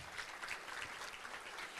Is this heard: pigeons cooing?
no